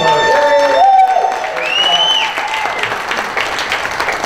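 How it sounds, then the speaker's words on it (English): A crowd claps loudly and continuously in a bar, with whistles and cheers rising above the applause. "I'd like to hear a big round of applause for the girls here at River City Ale."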